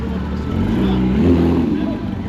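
A Porsche GT3 sports car rolls past at an outdoor car show, a steady low engine note swelling slightly as it nears, with people chatting close by.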